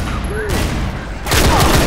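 Rapid bursts of gunfire from a weapon in the video game Left 4 Dead 2 during a multiplayer match, a dense, booming volley that grows louder and fuller in the second half.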